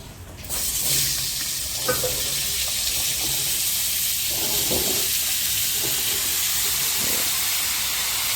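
Cubed potatoes and pumpkin fry in a pan for an Odia mixed vegetable dish, giving a steady loud sizzle and hiss throughout with a few stirring scrapes over it.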